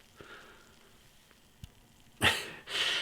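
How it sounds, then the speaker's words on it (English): Hard Road Hoarder's Porter is poured into a glass, with two short bursts of foamy splashing after a quiet stretch with faint clicks. "let's get this beer out into a glass and see what we get"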